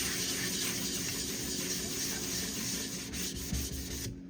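Steady abrasive rubbing of a White Ivory natural whetstone being dressed with a 120 grit diamond plate, a continuous close gritty scrape with slight wet hiss and no voices.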